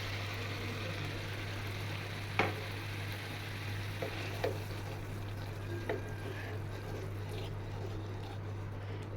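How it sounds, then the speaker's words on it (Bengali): Ground spice paste for a pabda fish curry sizzles steadily in a pan, a faint continuous fry with a few soft clicks of stirring and a low steady hum beneath. "সবগুলো উপকরণ ভালোভাবে ভেজে নিতে হবে।"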